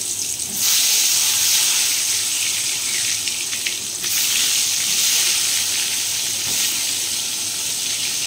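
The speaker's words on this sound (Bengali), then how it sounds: "সেই বেগুনগুলো একটু ভেজে নেব" Eggplant slices fry in a pan with a loud, continuous hissing sizzle that holds steady throughout, with no talking.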